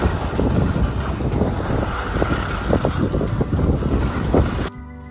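Strong wind at a ski resort lift in the Low Tatras buffets the microphone with a continuous roaring rumble and gusty bursts, steady for several seconds before cutting off abruptly.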